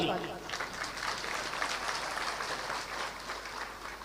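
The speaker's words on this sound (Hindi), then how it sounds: "अब बजाओ ताली" A gathering at a Hindu religious discourse in Indore claps in a soft, continuous patter, moderately distant, with voices mixed in throughout.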